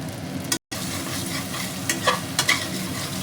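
Green chillies and chopped tomatoes frying in hot oil with spices, giving a steady close sizzle with a few scraping stirs and a brief gap near the start.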